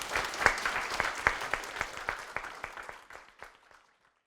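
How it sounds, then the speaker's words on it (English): Audience applause for panelists at the close of a policy panel discussion: a dense burst of clapping with sharp individual claps that thins out and fades to silence within about four seconds. "please join me in giving them a round of applause."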